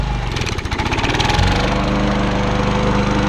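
A John Deere JE75 walk-behind lawn mower engine runs loud and close with a fast, rattling pulse, its tone settling into a steadier drone partway through as it warms up.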